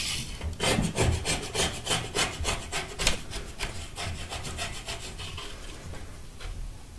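A razor blade scraper rasps repeatedly across a bathroom wall, stripping old wallpaper glue during a vintage bathroom renovation, with steady rhythmic scraping strokes heard close up and alone.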